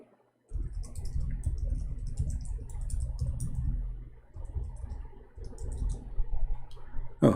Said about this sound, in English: Oh, I was typing